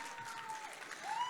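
A brief, faint wash of steady clapping comes from a distant audience cheering a participant in an Onam 2025 contest.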